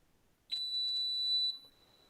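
A buzzer wired to a Raspberry Pi with an ultrasonic sensor, triggered by a hand placed in front of the sensor, gives one steady, high-pitched beep lasting about a second against a quiet background.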